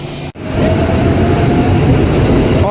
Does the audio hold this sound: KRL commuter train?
yes